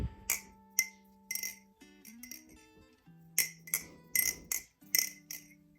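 Sirius V3 balisong knife flipped, sharp glassy clinks and chimes with ringing tones in quick clusters, close and clear, no talk.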